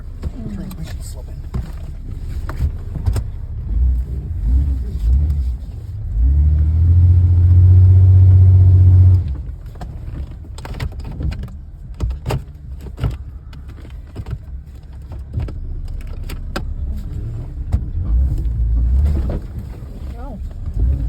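A stuck off-road vehicle in Northern Michigan revs hard and spins its wheels with a slipping transmission, a loud sustained engine roar of several seconds that rises out of a low rumble, with people talking before and after.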